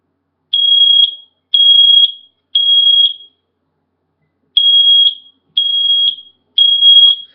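A smoke alarm being tested with its test button sounds loud, piercing beeps in two groups of three, with a short silent pause between the groups.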